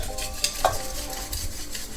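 Softened butter being mixed into matcha cinnamon roll dough in a bowl, a steady close stirring and scraping with a couple of light utensil clinks.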